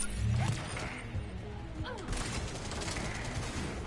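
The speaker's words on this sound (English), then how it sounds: "That Geth plasma shotgun" Geth plasma shotgun blasts and mechanical clatter in Mass Effect 3 Legendary Edition combat, a loud burst up front followed by a busy, sustained din of gunfire and machinery.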